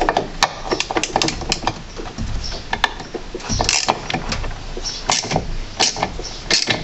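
A ratcheting socket wrench with a 13mm socket loosens the brake master cylinder nuts on a Peugeot 306, giving rapid, close metallic clicks in uneven bursts, with no talking.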